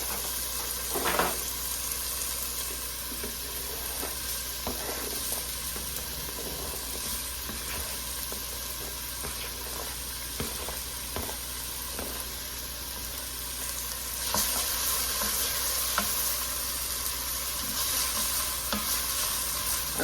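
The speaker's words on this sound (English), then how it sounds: "Add my onions." Onions sizzling and frying in a pan with chopped celery and carrots for a Mediterranean dish, a steady close hiss and crackle with occasional stirring scrapes, no talking.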